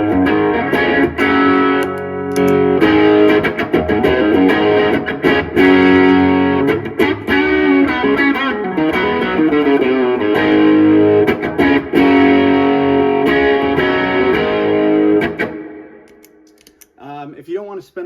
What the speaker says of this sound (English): Next pedal I use is the Distortion.